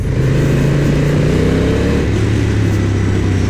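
A Honda NT1100 motorcycle engine runs loud and close in a steady drone, its pitch easing down slightly partway through, with no voices.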